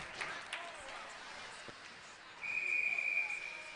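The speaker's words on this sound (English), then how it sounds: "I'm not sure what the whistle is." A referee's whistle halts play in a varsity hockey game, York against OPRF. One sustained shrill blast rises over faint arena crowd noise.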